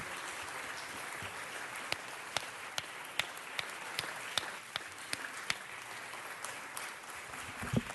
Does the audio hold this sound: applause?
yes